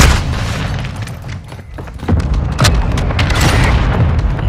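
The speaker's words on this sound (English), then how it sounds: "Hostile mortar strike incoming!" Mortar strike explosions land in Call of Duty: Modern Warfare II during a team deathmatch on Mercado Las Almas, a series of loud, close booms and thuds rolling over one another with debris rumble throughout.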